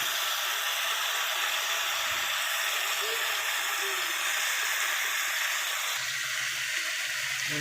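Potatoes hit hot oil in a frying pan while aloo dum is cooked, giving a continuous loud hiss and sizzle. The sizzle brightens near the end. A voice talks faintly underneath.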